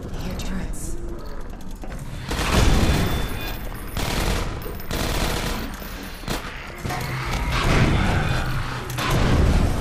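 Automated turrets in the game Half-Life 2 Episode 1 firing in rapid loud bursts, with booming impacts and mechanical clatter rising and falling, while people talk over the shooting.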